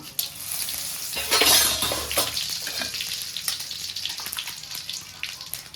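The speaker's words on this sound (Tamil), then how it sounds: "எண்ணெய் காஞ்சதுக்கப்புறம் இலை, கிராம்பு, பட்டை, கசகசை எல்லாம் ஒன்றா இருக்குது, அதை போட்டுக்கலாங்க." Bay leaf, cloves, cinnamon and poppy seeds dropped into hot oil for a mutton lung gravy, crackling and sizzling loudly at first, then settling into a steady close fry with scattered pops and stirring.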